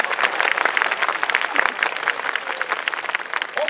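Steady applause from an audience at the award ceremony of the Wakasa Obama YOSAKOI dance festival, honoring a team on stage, with dense clapping sustained at an even level throughout.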